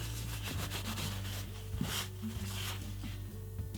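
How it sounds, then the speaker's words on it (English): Oil paint being smeared and buffed across a weathered prop, a quiet continuous rubbing with a faint steady hum underneath, close by. "you can kind of smear them a bit and get a little bit more of a gradient on the finish"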